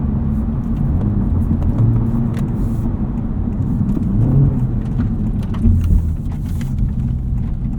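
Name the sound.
sports car exhaust driving on streets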